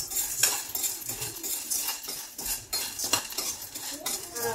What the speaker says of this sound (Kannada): ಈಗ ಒಂದು ಸ್ವಲ್ಪ ತುಪ್ಪ ಹಾಕಿ ಅದು ಸ್ವಲ್ಪ ಕಾದ ನಂತರ ಅಡಿಕೆಯನ್ನು ಹುರ್ಕೊಳ್ಳೋಣ.